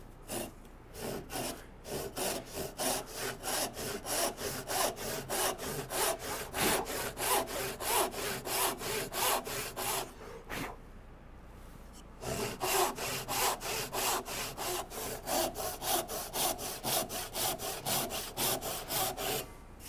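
A hand saw cuts a wooden tenon, steady rhythmic rasping strokes close up, about two per second, pausing briefly midway before resuming the same even back-and-forth pace.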